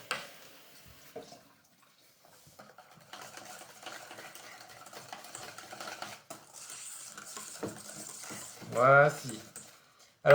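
Melted dark chocolate and butter are stirred in a bowl, giving soft, intermittent scraping and clinking of a utensil under quiet talk, with a louder burst of voice near the end.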